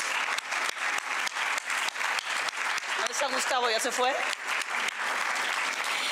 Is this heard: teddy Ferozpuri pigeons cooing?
no